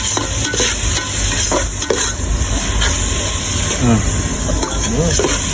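Onions sautéing in a hot pan give a steady loud sizzle with stirring scrapes and clatter throughout, while people talk over it.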